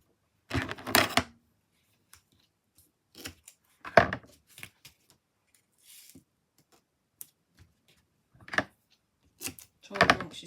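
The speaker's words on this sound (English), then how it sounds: "we'll put foam tape underneath the layers, so we'll have a fill style card" Sparse crinkling, peeling and tapping noises come in short separate bursts with quiet gaps as 2mm foam tape is handled and pressed under the layers of a handmade floral card.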